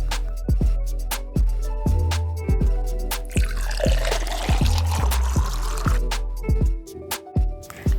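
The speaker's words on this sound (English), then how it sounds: "Add half a cup or a cup of milk" Milk pours into a container of fresh or frozen berries for a healthy snack, with a liquid gurgle in the middle under a series of sharp, repeated knocks and clicks.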